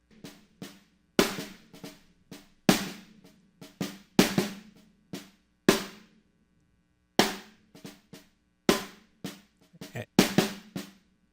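Dry snare drum strikes from a recorded, unmixed song, shaped with a Softube Transient Shaper, land as sharp cracks in an uneven rhythm, each with a quick decay and no reverb.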